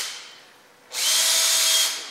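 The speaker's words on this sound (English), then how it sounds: "I'm using a little tapping block here, cordless drill" A cordless drill tapping threads through a tapping block whirs in one steady, loud burst of about a second after a fading earlier spin, with a faint whine running through it.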